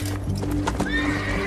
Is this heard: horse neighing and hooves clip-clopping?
yes